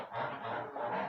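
Chickens cluck in a backyard coop where the hens are fed crushed barley and a large rooster is kept, a continuous murmur of close, overlapping clucks with no talk.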